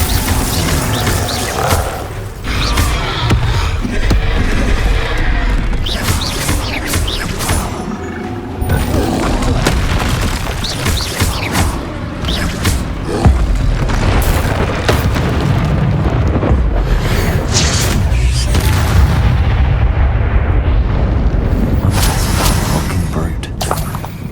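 Spell impacts from Expelliarmus and Glacius casting in the Hogwarts Legacy video game, a continuous barrage of loud booming blasts and bursts layered over game music and effects, with a voice speaking at times.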